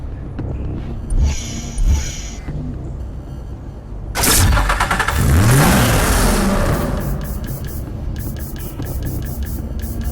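A sports car roadster in the racing game Need for Speed Hot Pursuit Remastered idles quietly, then its engine revs up loudly and accelerates with a rising, whirring pitch before settling into a steady hum.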